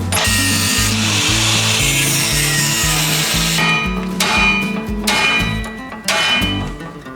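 Power saw cutting the corners off a steel carrier-bearing crossmember for a 1948 GMC pickup, a loud continuous grinding rasp with a steady repeating low pulse, closing with a few short rising cuts, no talking.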